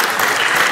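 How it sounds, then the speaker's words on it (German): An audience at a panel discussion applauds, a brief, dense burst of many hands clapping, loud and close with no voices over it. "Ja, ruhig klatschen."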